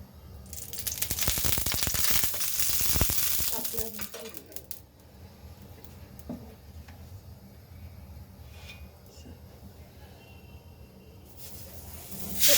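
Methi thalipeeth, a Maharashtrian flatbread, hits hot oil on a griddle with a loud burst of sizzling that fades into a quieter crackle, with scattered clinks of utensils and pans nearby.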